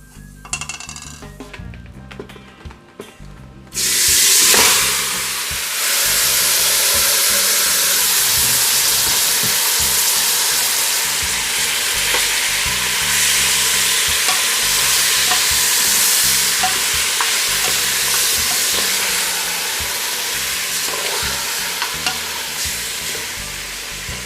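Beef for curried beef fries in a hot pot with spices, a loud continuous sizzle broken by scraping stirs, opening with a few quieter clinks before the meat hits the oil.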